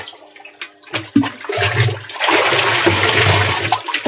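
Water pours and gushes into a mixture, starting in short splashes then becoming a loud continuous rushing swirl as it is stirred, close by.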